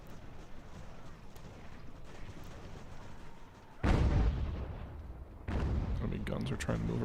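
Artillery fire in the video game Ultimate General: American Revolution: two heavy booms over a steady background of battle noise, while someone talks.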